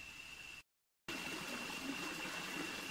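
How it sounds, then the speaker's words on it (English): Creek water flowing steadily along a trail, a continuous broadband rush with a faint high tone, briefly cut to silence before resuming. "the creek's drying up a little bit"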